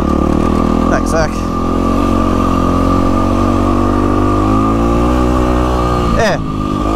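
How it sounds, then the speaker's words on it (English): A KTM 500 four-stroke dirt bike runs on a New Year's Eve trail ride through the bush, its engine a loud, steady drone close by, with small shifts in pitch as the throttle changes and a brief dip near the end. "There's Nathan on his KTM. It's 500. Four stroke, I'm pretty sure."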